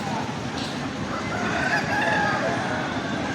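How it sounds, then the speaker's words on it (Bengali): At a crowded rural haat before Makar Sankranti, tethered roosters kept for fighting crow loudly and chickens cluck close by, over a busy background murmur of the market. "এখানে মুরগি আছে, এখানে বেঁধে বাঁধা আছে।"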